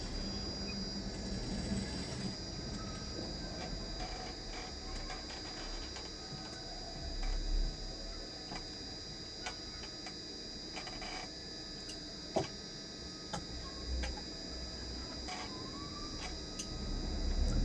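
A sewing machine runs double stitching along the body seams of a flared princess-cut dress, a continuous fast mechanical whir and rattle at low level with small clicks and pauses scattered through it.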